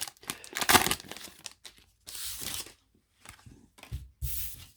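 Wrapping paper around a Pokémon card box crinkles and tears in several bursts, close and loud, with short pauses between rips and crumples.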